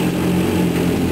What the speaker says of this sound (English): While it's idling, you're going to want to give it a couple of hits of throttle.